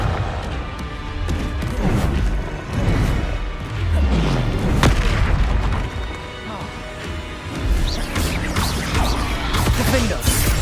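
Confringo fire spell explosions in the Hogwarts Legacy video game, a dense mix of crashing blasts, booms and thuds in quick succession, loud and close, with voices calling out over the combat.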